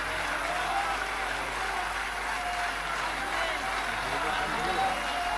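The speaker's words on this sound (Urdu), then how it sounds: "باپو آشیرواد سوروپ آپ کے لیے اب تک تالیاں بجا رہے ہیں" Audience at a poetry recital (mushaira) applauding, a faint, steady patter of clapping from a distant crowd heard continuously, with some voices beneath.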